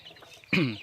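A single loud cluck from a chicken in a backyard farm flock of about ten birds kept alongside ducks and geese, a short harmonic call rising out of quiet background murmur near the end.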